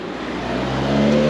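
A beach buggy drives past on a road, a loud engine drone rising steadily as it approaches, with no voices.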